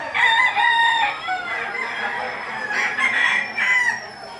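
Roosters at a poultry market crow loudly and close by, their calls overlapping with clucks from other fowl across a few seconds.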